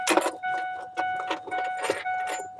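Keys jangling near the microphone in short metallic bursts, repeated several times with brief pauses between, with no talking.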